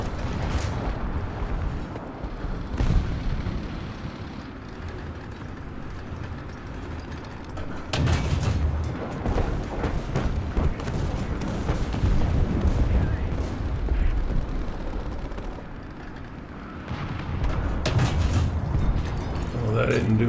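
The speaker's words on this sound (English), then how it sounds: "I heard some bombs or something." In War Thunder, heavy bomb blasts and booms from a German Panzer III Ausf. J1 tank battle rumble loudly and repeatedly over steady engine noise. Someone talks over them at times.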